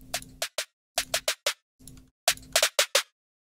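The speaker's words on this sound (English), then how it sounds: "Now we get this cool like pitch bend snare roll thing." A snare roll programmed in a Cubase Sampler Track bends down in pitch, with quick bright trap snare hits in short clustered bursts and a few sustained tonal notes in between. No one speaks.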